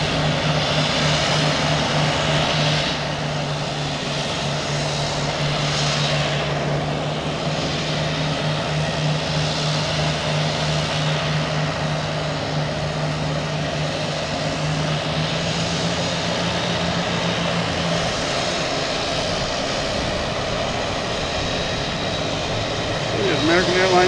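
A Boutique Air propeller plane departs Boston Logan Airport with a slightly rough-sounding engine, its droning roar steady and fairly loud, slowly shifting in pitch as it heads out.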